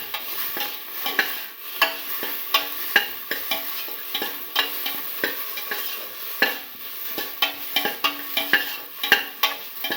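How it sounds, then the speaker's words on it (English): Tomato pieces fry in a pan with a lively sizzle, broken by frequent clicking stirs and scrapes at an irregular rhythm, close and fairly loud with no talking. "put in the tomato pieces, salt the tomato pieces"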